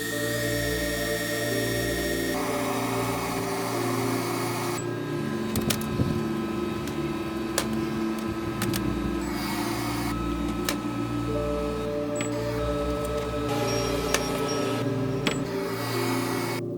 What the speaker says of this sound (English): Next, I laser cut each letter out of an acrylic sheet.